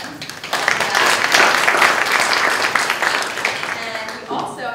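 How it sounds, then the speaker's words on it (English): An audience at a journalism panel applauds to welcome the panelists. The dense, sustained clapping swells quickly, holds strong, then thins out near the end. "Let's give them a hand."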